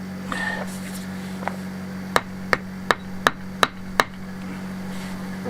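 Six sharp hammer strikes in an even rhythm, close by, over a steady low electrical hum.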